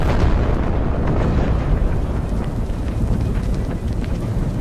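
A volcanic eruption of Mount Vesuvius rumbles as a loud, continuous roaring blast with deep booming low end and wind-like turbulence, sustained throughout without a break.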